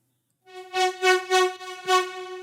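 A Serum synth chord preset plays a rhythmic progression of bright, buzzy stabs. Four or five pulsing chord hits sound alone at moderate loudness.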